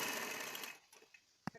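A sewing machine runs a fast, even stitching burst while sewing a peplum lehenga, then stops, followed by a few faint clicks and one sharp tap.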